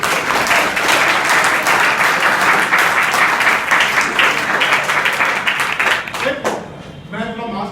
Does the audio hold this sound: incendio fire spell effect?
no